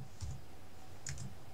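Two brief bursts of soft key clicks on a computer keyboard while entering a find-and-replace search in desktop publishing software, quiet and close, with a pause between the clusters and no talking.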